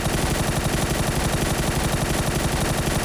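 Rapid automatic gunfire in the video game PUBG, a continuous rattling burst of closely spaced shots, loud and unbroken for the whole stretch.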